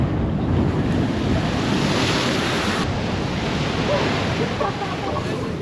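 Ocean water at Laguna Beach washing up over rocks and spilling back down, a continuous loud churning wash and surf roar with heavy wind noise on the microphone.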